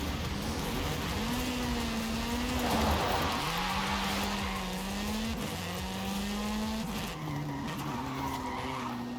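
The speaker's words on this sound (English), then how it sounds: "just driving over sand dunes" A car tearing across sand dunes in Forza Horizon 5, its engine droning steadily and revving up and down in rising and falling pitch, with tires skidding and hissing over the sand the whole time, loud and close.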